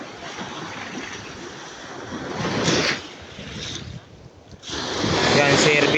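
Sea waves at a resort beach wash in broad surging swells, building, easing briefly, then rising again, with steady wind rumbling across the microphone.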